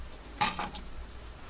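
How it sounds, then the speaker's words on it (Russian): A soft, steady sizzle of fish frying in a pan, with a brief scraping stir of a utensil partway through; quiet and close, no voices. "Вон там рыба жарится."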